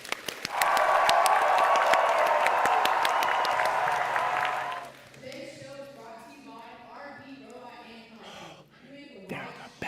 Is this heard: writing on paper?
no